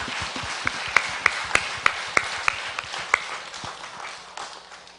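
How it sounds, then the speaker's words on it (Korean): Church worship-service congregation clapping in praise. Sharp, fairly close claps come in a steady rhythm at first, then thin into softer, scattered clapping over a faint room background. "박수로 영광 돌리겠습니다"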